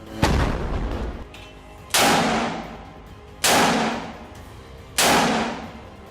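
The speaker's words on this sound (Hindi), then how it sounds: "हमास के लड़ाके इस वीडियो में शॉर्ट रेंज वाले 114 mm कैलिबर रजूम मिसाइल से हमला करते हुए नजर आ रहे हैं।" Short-range 114 mm Rajum missiles launch in four separate loud blasts, each a sharp broadband bang with a long decaying roar, spaced roughly one and a half seconds apart, with no talk.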